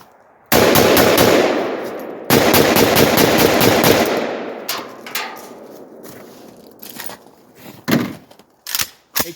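An AK-47 rifle fitted with a red dot sight fires two long, loud, close full-auto bursts of rapid shots, then a few scattered single shots and handling clatter outdoors.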